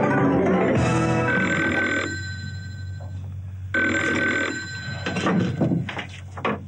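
An old-style telephone bell ringing indoors during a comedy sketch, two loud rings separated by a pause, followed by a fainter rustle.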